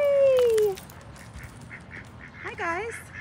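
Ducks quacking in a town setting: a few short nasal quacks scattered across the moment, moderately close, following a brief high whistle-like tone at the start over faint outdoor background.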